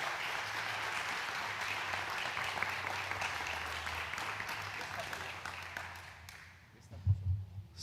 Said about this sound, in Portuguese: Você pode receber o nosso professor com um forte aplauso para Jesus.